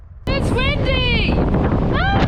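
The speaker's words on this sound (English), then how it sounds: "It's very windy!" Loud wind buffeting the microphone in a steady rumble on the Pacific Crest Trail, with a shouting voice over it.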